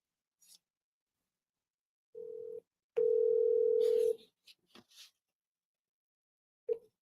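Phone call ringing tone heard alone in a quiet room: one short steady beep, then a longer sustained tone about a second long, followed by faint small clicks and a brief blip at the end.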